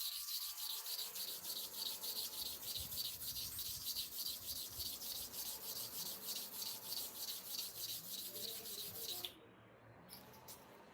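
A barber's clipper blade is sharpened with steady, rhythmic rubbing strokes, a dense hiss repeating evenly for about nine seconds before stopping abruptly, with a few faint scrapes after.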